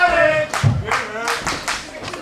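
Crowd at a CWF Mid-Atlantic wrestling event clapping and cheering, a loud rhythmic wash of applause with bursts of voices and a low thump near the start, running continuously through the moment.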